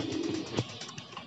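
Pigeons sitting in the heat, a faint, soft coo with a brief low throaty note amid quiet background, heard alone.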